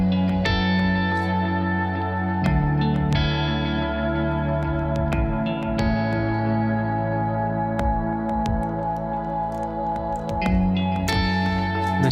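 An electric guitar plays sustained, layered chords through a Gratifier rectifier amp model drenched in reverb and delay, so the notes ring out and wash together into a dense, loud, continuous wall.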